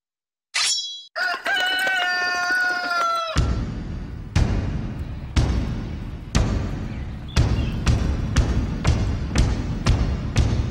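A gamecock from a flock of over 300 fighting chickens crows loudly and clearly up close. A run of heavy, evenly spaced thuds follows, with faint clucking in the background.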